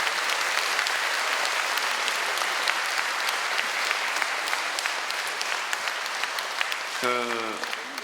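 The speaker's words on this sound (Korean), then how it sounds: "큰 박수 다시 한번 보내주세요." A congregation at a church Advent lecture at Juyeop-dong Catholic Church applauds in a steady, full wash of clapping, with a brief voice rising over the end.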